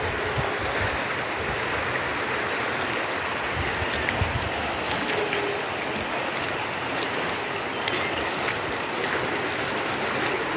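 Flowing water of the Collantes River in Tanauan City, a steady broadband rush of current that stays even and continuous throughout, with no talking.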